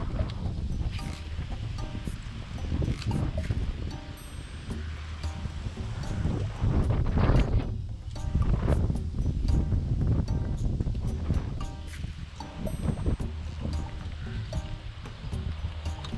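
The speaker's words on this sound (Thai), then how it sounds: "ลมแรงมาก" Strong wind roars steadily across the microphone, buffeting and rumbling loudly throughout with a surging, wave-like hiss.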